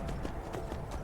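Horse hooves clip-clop in Skyrim, a quick run of rhythmic, fairly quiet hoofbeats in brief succession with no voices over them.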